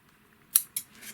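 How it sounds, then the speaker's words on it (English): Scissors snipping along the seam of a headphone headband, two quick, crisp, close cuts a fraction of a second apart, faint and alone with no talk. "we're going to cut down the seam right here on the headband"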